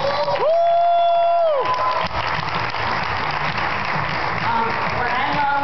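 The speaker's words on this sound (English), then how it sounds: "I think that deserves a second round of applause" An audience applauds and cheers for a six-year-old girl after she sings a hymn; dense clapping and crowd noise hold steady throughout, with a sustained tone sounding briefly near the start.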